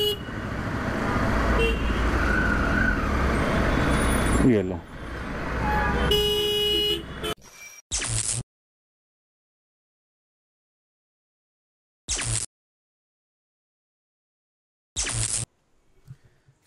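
Dense road traffic with car horns tooting in a busy street, loud and continuous for several seconds, then quiet with three short separate bursts later; a voice briefly speaks.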